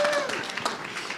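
An audience at a talk breaks into brief, dense applause, a short burst of many hands clapping that fades quickly.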